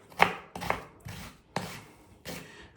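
A knife slices through an onion on a cutting board in five crisp, evenly spaced chops, each a sharp close thud with a short fade.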